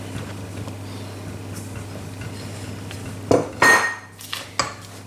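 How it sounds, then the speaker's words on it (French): A spatula folds sifted flour into apple cake batter in a bowl, first as a soft, quiet scraping, then as a few sharper knocks and scrapes against the bowl near the end. "je rajoute la farine tamisée en mélangeant uniquement avec une spatule"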